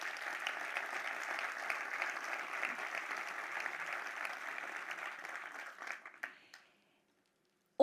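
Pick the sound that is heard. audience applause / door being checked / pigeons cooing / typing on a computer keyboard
audience applause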